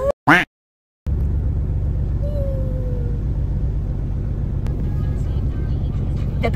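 A car drives steadily along a highway, giving a continuous low road rumble and engine drone, with a brief rustle and a gap of silence before the drone starts.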